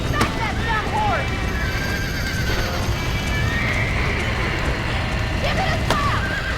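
A horse in the Red Dead Redemption video game whinnies several times over a steady clip-clop of hooves and game ambience, while a person talks over it.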